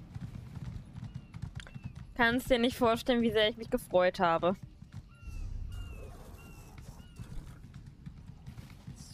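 Horse hooves clip-clopping in the Elder Scrolls Online video game, a steady faint trotting beneath someone talking in German, with a louder burst of vocal sound partway through.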